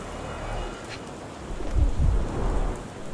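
Rainfall in the video game Sherlock Holmes The Awakened: a steady soft hiss of rain with low rumbling swells of thunder rising toward the end, no speech.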